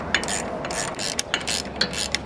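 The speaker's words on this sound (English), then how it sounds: "I wanna remove the lower end link bolt that's attached to the sway bar." Ratchet loosening the 16 mm lower sway bar end link bolt on an Audi B9 S4, producing a rapid, close sequence of clicking pawl strokes in bursts.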